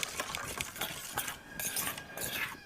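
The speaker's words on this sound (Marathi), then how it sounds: "ही चमच्याने आपल्याला फक्त असं सगळं हलवून घ्यायचं जेणेकरून शॅम्पू आपला सोडा निर्मा हे सगळं मिक्स होईल" A spoon stirs homemade dishwashing liquid made from shampoo, soda and Nirma detergent in a container, giving a run of light, quick metallic clinks and scrapes that come close and steady, with no talking.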